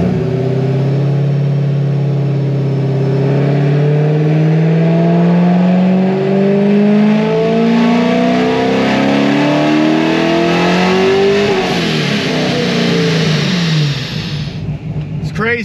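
A procharged iron-block LT1 V8 on a dyno makes a full-throttle pull to 6,000 RPM. The engine note climbs steadily for about fifteen seconds, loud and close, then cuts off sharply at the top.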